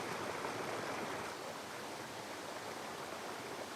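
A mountain river rushes through a glacier-carved gorge in a dense, continuous hiss of moving water, steady and fairly loud throughout with no voices.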